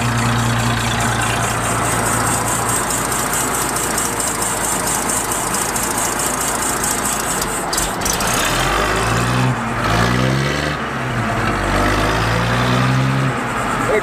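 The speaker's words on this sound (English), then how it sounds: "Sounds like a brand new truck." A heavy military truck engine runs loud and close, a steady low rumble that shifts pitch partway through as the revs change.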